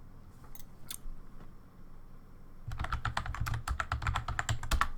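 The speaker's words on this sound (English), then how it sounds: "pardon the keyboard ASMR" Computer keyboard typing, a quick run of crisp clicking keystrokes that starts partway through after a few scattered taps, close and fairly quiet over a low room hum, with no talk.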